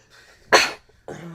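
A single sharp sneeze bursts out loud and close, preceded by quiet room tone and followed by a short murmur of voice, set in a casual podcast conversation.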